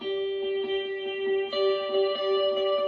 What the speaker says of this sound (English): I'm using a little bit of Memory Man for subdivision.